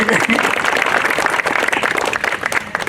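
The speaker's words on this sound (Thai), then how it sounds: "ปรบมือตัวเองสักนิดหนึ่งครับ" A crowd claps steadily and fairly loudly for a few seconds, a dense patter of hands with a voice mixed in.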